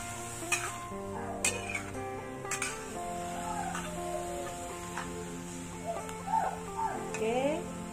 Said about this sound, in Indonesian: Gaul sayur kita hingga layu sedikit.